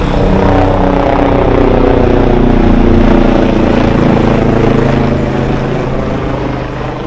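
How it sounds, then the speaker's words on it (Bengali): A helicopter ferrying pilgrims near Pahalgam in Kashmir on the Amarnath Yatra route arrives with a loud, close rotor drone that holds steady and fades slightly toward the end. "আর এই দেখুন হেলিকপ্টার আসছে"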